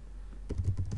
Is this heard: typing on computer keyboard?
yes